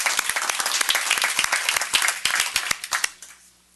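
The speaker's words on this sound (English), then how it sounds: "That deserves an applause." Applause at a board of trustees meeting: a room full of people clapping briskly and loudly for a few seconds before the claps thin out and fade away.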